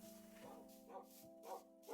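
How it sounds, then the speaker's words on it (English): Dogs barking in the video game Minecraft: four faint, evenly spaced barks about half a second apart, over a steady quiet tonal hum. "Them dogs are getting awfully annoying."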